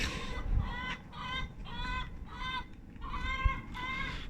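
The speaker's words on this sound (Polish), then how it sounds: "tak to wygląda moi drodzy z tymi jajkami, z tymi kurami" Several chickens cluck and squawk in short repeated bursts, fairly close, with a low rustling background throughout.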